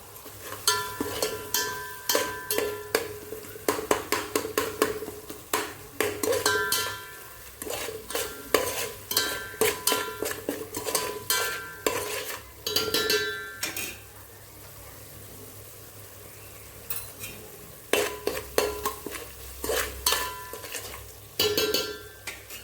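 A spiced mixture with turmeric and garam masala is stirred in a pan, a utensil scraping and clinking against the metal in repeated bursts with soft sizzling between them, close by and with no talking.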